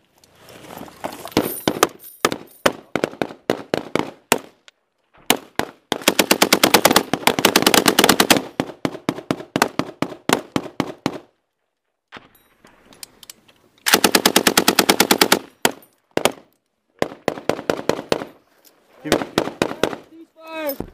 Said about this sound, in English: Keep fucking shooting, Prince.